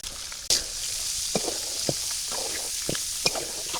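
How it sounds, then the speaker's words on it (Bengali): Chopped onions go into hot oil in a wok-style kadai with a sudden loud sizzle, then keep frying steadily as a few utensil scrapes and stirs sound over the hiss. "তেল দিয়ে দিলাম দিয়ে দিলাম পেঁয়াজ কুচি"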